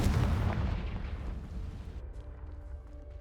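A Confringo fire spell explodes in Hogwarts Legacy, a loud broadband blast at the start that rolls into a decaying rumble and settles into a low hum.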